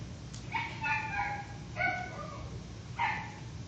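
A cartoon dog gives a few short, yipping barks and whimpers in separate bursts with pauses between them, fairly quiet and clear, with no other sound over them.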